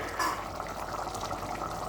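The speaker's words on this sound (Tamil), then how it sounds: "இந்த ஸ்டேஜில் ஒரு 1/4 டம்ளர் மட்டும் தண்ணி ஆட் பண்ணி" Water is poured from a quarter tumbler into a pressure cooker of simmering lentils, making a steady, soft splashing pour that runs throughout with no talk over it.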